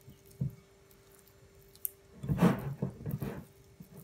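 Soft, slack olive bread dough squished and handled by hand, a faint isolated squelch followed by a louder cluster of sticky, wet squishing pulls close up, with no talking.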